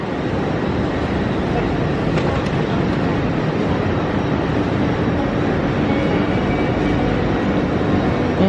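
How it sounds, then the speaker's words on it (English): A train pulls into a station for a day trip to York, a loud, continuous rumble with rail clatter, and people can be heard talking over it. "It's our train."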